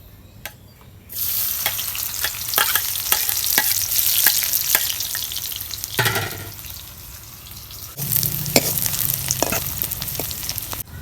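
Onions sizzle loudly in a pan while they are cooked until browned, with steady frying noise and repeated scraping and stirring clatter, and a brief quieter gap partway through.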